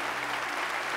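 Congregation applauding during a church service, a brief, steady burst of dense clapping filling the space.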